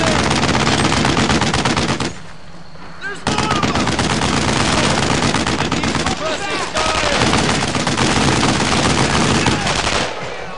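Machine gun fire in the World War II shooter Brothers in Arms: Earned in Blood rattles in loud, dense bursts that stop briefly for a short pause, then resume and continue to the end.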